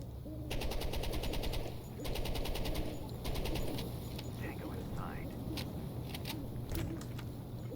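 Rapid bursts of automatic gunfire from the Door Kickers 2 tactical shooter game come in several quick volleys at moderate volume, with a voice talking in the background.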